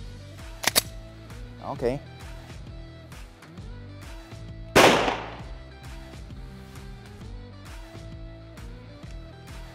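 Glock 35 pistol chambered in .40 S&W fired at body armor plates: two sharp shots, a close one early and a louder one near the middle, with someone briefly speaking between them.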